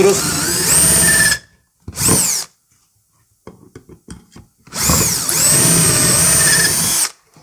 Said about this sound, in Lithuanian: Dabar gręžiu su gylio ribotuvu maždaug apie 9 mm.